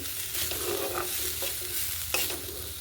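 Greens frying with garlic and onion in a village kitchen, a dense close sizzle under repeated stirring scrapes of a spoon through the pan, steady and unbroken, with no voices.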